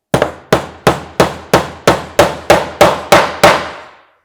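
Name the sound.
hammering a nail into wooden planter box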